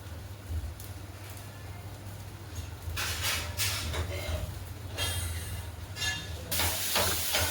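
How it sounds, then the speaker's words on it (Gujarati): A dosa being cooked on a hot pan in a home kitchen sizzles faintly and then grows louder, with hissing bursts near the middle and a strong swell toward the end over a low steady hum. "તો પહેલો બનાવી દીધો, બીજો ઢોસો બને છે."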